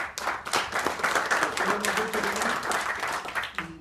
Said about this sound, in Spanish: le tenemos aquí al, doctor Carlos a que le pido un aplauso, por favor.